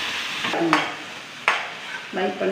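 Liver and spleen fry sizzles in a pan while a spatula stirs and scrapes it in bursts. Loud, close scraping strokes rise over a steady frying hiss.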